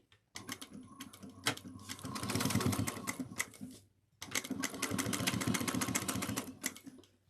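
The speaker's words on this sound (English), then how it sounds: "we're going to sew it at 3/8 of an inch" A sewing machine stitches a 3/8-inch seam on a small cross-body bag, running in two steady rapid bursts separated by a brief pause, close and clear with no talk.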